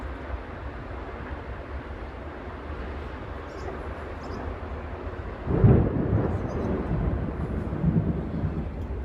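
A low rumble of thunder rolls in during an outdoor lightning storm with rain showers, swelling around the middle of the clip over steady background noise, with no voices.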